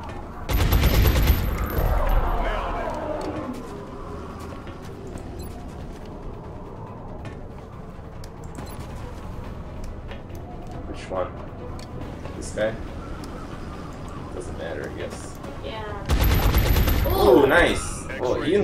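Automatic gunfire in the turn-based strategy game XCOM, loud rattling bursts at the start and end, with players talking over the quieter stretch between.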